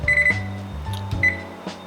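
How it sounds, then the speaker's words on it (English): Electronic timer beeps while chocolate cookies bake, two short high bleeps about a second apart, loud and close, over low hum and mechanical clunks from the kitchen, with no talking. "We put a timer for 15 minutes."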